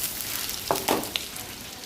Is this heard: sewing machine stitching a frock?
no